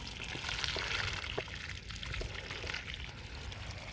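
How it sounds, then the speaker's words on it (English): Water poured by hand onto soil around the edges of a banana planting hole, a continuous close splashing and trickling wash with brief soft knocks, no voices. "This water we pour it on the edges of our hole."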